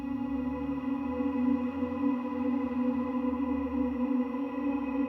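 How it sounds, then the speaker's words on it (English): A dry guitar pad without tremolo or step effects holds a sustained, steady drone chord with a strong low-mid tone and even loudness throughout, no pulsing or chopping. "So I'm working with this guitar pad here"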